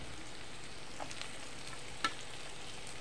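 Garlic, chillies and ginger fry in a pan with a quiet, even sizzle throughout, broken by one small sharp click.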